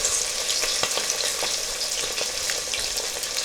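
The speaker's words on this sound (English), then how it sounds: "let's load up this batch in the cast iron skillet and see how it does." Chicken pieces frying in hot oil in a cast iron skillet give a steady, close sizzle with scattered crackles and pops throughout, with no talking.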